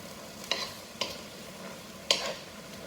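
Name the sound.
stirring beef carne con chile in a pot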